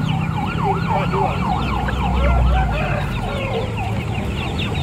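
Young Bangkok-breed chickens, one to two months old, at a chicken market in Makassar, give loud, repeated warbling calls and clucks over a steady market din, with no talking.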